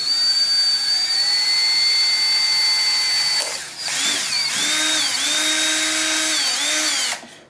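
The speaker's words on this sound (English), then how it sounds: "drill a hole into the top of your bottle" A high-pitched power drill whines steadily, stops briefly, then whirs again with pitch wobbling as it bites into the top of a plastic bottle, cutting off at the end.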